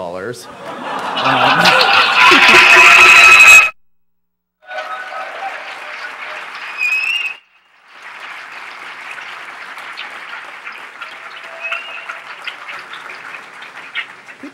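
A crowd at a staged corporate announcement bursts into loud, dense applause that cuts off suddenly, followed by softer stretches of clapping and scattered audience noise.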